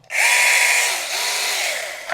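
Grand 2G brushless pole saw running with a 15 cm oiled bar, a loud, close, high-pitched motor whine that starts abruptly and holds steady for about two seconds with a slight dip midway.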